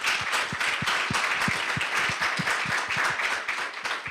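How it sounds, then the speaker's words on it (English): Audience applause at an Artemis Accords anniversary celebration, steady crisp clapping from a moderate crowd sustained for several seconds, fairly close and without speech over it. "I think that's worth a round of applause."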